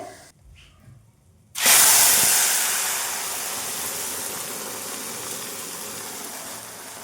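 A pressure cooker holding sambar releases steam with a sudden loud hiss that starts after a quiet moment and continues as a steady, gradually easing rush.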